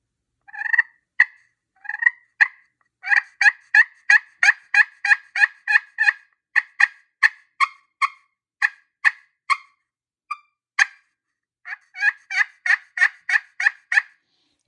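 A friction slate turkey call, played on its roughed-up portion, yelps out in quick series of sharp, raspy notes, loud and close, with brief pauses between runs and no talking.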